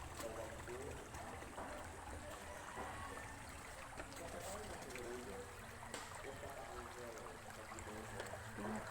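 A stream being waded across on foot, water sloshing and trickling steadily up close throughout, with faint voice-like sounds under the flow.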